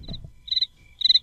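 Crickets chirping in two short bursts of rapid high pulses, fairly close and clear over a quiet background.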